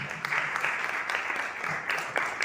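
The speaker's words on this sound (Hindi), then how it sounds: "ताली मार के धन्यवाद दें।" Congregation clapping together during a Sunday laying-on-of-hands church service, a dense, steady wash of applause with a few sharper claps standing out, fairly loud throughout and no talk.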